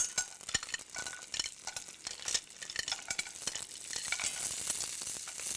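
Mussels, about sixteen regular ones, cook in a very hot skillet with a steady sizzle, broken by frequent clicks and knocks of shells shifting against the pan, close up and with no talk.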